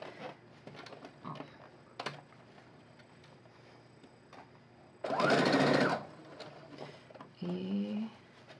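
A sewing machine stitches a straight seam on fabric for a wine bottle holder in one loud, rapid burst of about a second, with quieter handling clicks and rustles before and after.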